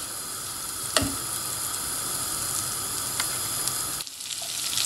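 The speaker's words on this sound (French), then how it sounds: "et je fais fondre mon beurre dedans." Butter sizzles and crackles steadily in a saucepan, with a couple of brief clinks and a short dip near the end.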